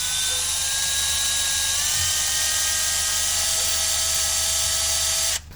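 Eraser wheel spun counterclockwise on a new power steering pump pulley of a 2011 Honda Civic, a steady high-pitched whine that holds for about five seconds, close and loud, then stops abruptly.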